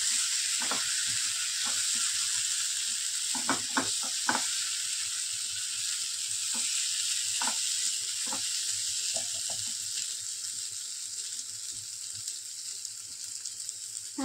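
Soaked chana dal hits a hot frying pan and sizzles steadily, a continuous loud hiss with occasional soft stirring clicks and taps, close and alone.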